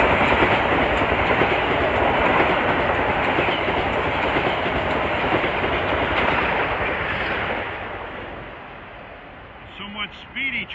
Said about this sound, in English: Somewhat speedy train, the North White Plains.